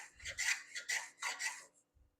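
A block plane shaves the end grain of a wooden coaster in four quick rasping strokes close by, then stops with a soft knock at the end.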